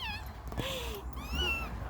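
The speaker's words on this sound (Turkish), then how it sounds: "AVM'nin kedisi." A small cat meows inside a shop in a shopping mall, a couple of clear rising-and-falling meows close by over steady indoor background hum.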